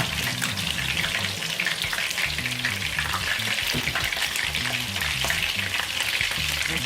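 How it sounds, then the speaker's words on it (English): Steady, loud sizzling of chicken frying in hot oil for Jamaican fricassee chicken, a continuous crackle with occasional stirring clatter and low rumbling underneath, no voices. "All the chicken is frying out now."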